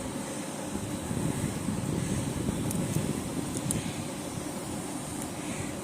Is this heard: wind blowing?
yes